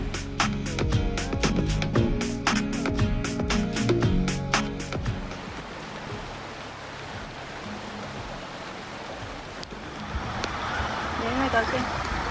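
A mountain stream runs over large, jagged rocks and loose gravel in a Hong Kong ravine. Steady, broadband rushing water fills the clip; voices sound over it at the start before the flow carries on alone.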